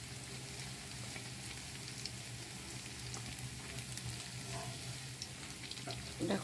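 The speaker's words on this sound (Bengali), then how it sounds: "ডুবো তেলে ভেজে নিচ্ছি।" Fritters deep-frying in sunflower oil, a faint steady crackling sizzle throughout, with a brief clink near the end.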